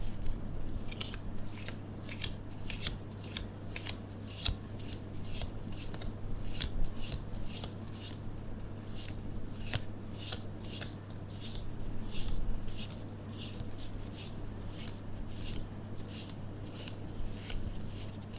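Tarot cards handled and shuffled at close range, a quiet run of soft papery flicks and rustles repeating over a steady low hum, with no talking.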